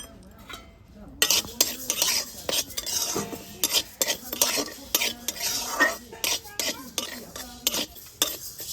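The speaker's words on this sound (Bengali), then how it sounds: "মুগ ডালটা একটু শুকনো কড়াতে ভেজে নেব।" Mung dal dry-roasting in a wok gives a run of brisk, rhythmic scraping and rattling strokes from a stirring utensil, close and fairly loud, starting after a quiet moment with a faint sizzle underneath.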